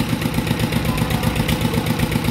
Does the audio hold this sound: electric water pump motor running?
yes